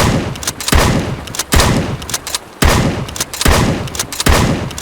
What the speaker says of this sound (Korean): 얘도 한 발 쏘고 장전해야 돼